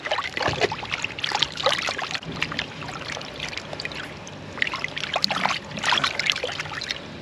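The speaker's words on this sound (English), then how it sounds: "Give the squid a nice wash." Water splashes and trickles as a squid is rinsed by hand outdoors on a dock, with irregular close splashing and dribbling over low background noise and no talk.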